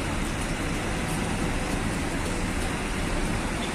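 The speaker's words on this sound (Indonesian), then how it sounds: "Masih hujan." Steady rain falls at a busy bus terminal during the holiday travel rush, a dense, even hiss that holds through the whole stretch with a low rumble of traffic beneath it and no speech.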